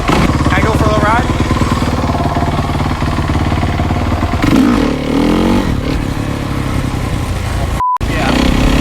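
2008 dirt bike engine running close by, a rough, rapid clattering idle with throttle blips and revs, with people talking over it and a brief dropout near the end.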